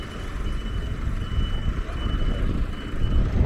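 A large vehicle on a Stockholm street in Kungsholmen sounds a steady high reversing beep over a loud, continuous low engine rumble, with no talking.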